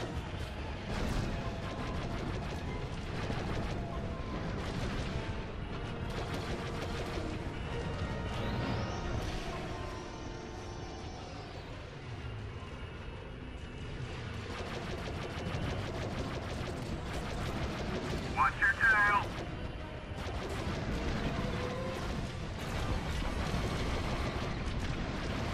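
Blaster fire pours onto an enemy ship in Star Wars Battlefront 2 (2005), with continuous rapid bursts of laser shots and crashing impacts layered densely together.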